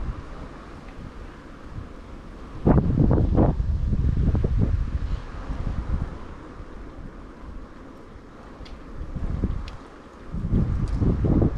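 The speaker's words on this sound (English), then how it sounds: "it's a bit windy" Gusts of wind buffet a microphone in low, rumbling bursts that swell and fade, with quieter steady wind between them, on a bicycle ride through the Dutch countryside near Abcoude.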